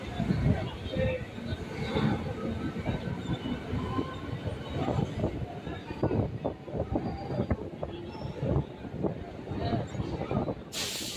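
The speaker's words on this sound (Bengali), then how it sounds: "পাশের লাইন দিয়ে এক্সপ্রেস ট্রেন বেরিয়ে যাচ্ছে।" An express train rumbles and clatters past on the adjacent track close by, steady rolling wheel noise with rhythmic clacks filling the whole stretch, and a voice speaking over it.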